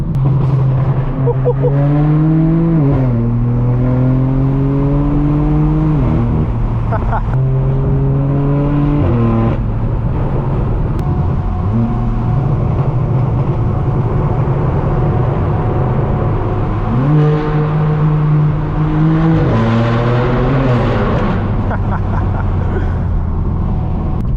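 Straight-piped BMW M4 F82 driven hard on mountain roads, its loud exhaust droning close and steady with repeated rev climbs, gear-change dips and rises throughout, no talk over it.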